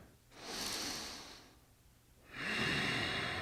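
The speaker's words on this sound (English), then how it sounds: "breathe in and out of your nose" Slow breathing through the nose during a relaxed yoga twist: a long airy inhale, a quiet pause, then a fuller exhale, close and steady with no talking.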